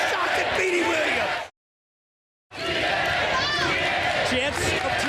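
A standing-room-only wrestling arena crowd roars and cheers continuously, loud and dense with whoops and yells, cut by a full second of dead silence before the roar resumes.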